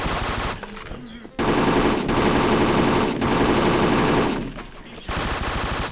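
Sustained automatic gunfire from shooting an enemy in a video game rattles loud and continuous in long bursts, with brief pauses between strings of shots.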